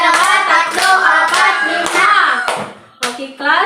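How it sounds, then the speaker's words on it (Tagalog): A classroom of children claps in unison, five sharp, evenly spaced claps close by, while young voices chant along loudly over them. "bigyan nyo ng 5 palakpak ang iyong mga sarili"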